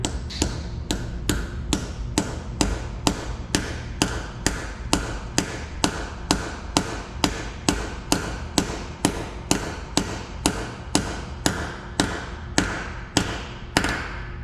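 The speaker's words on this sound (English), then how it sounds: "you'll hear the hammer change tones when you have got it down in the block all the way" A hammer taps steadily on metal, driving a pressed AN PCV fitting into a Subaru EJ engine block, about two strikes per second, close and sharp, continuing evenly throughout with no voices.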